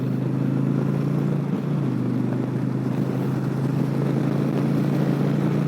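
A motorcycle powered by a PowerPlus 112 motor rides along with a steady, continuous low engine drone at constant volume and no changes in pace.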